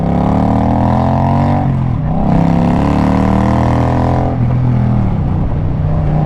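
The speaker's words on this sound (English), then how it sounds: "The exhaust on this bike is quite loud." A loud bobber motorcycle exhaust rumbles steadily up close, its deep drone rising and falling as the throttle shifts.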